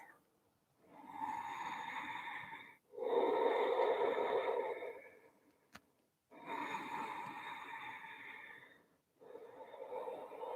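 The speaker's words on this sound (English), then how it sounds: "And breathe." Slow, audible breaths in and out during a gentle hatha yoga balance pose such as warrior three, several long near breaths separated by short pauses, with no talking.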